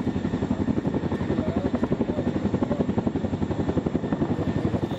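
A helicopter's rotor thumps in a rapid, steady rhythm, loud and close, with a constant engine roar underneath, as it drops troops into water by helocasting.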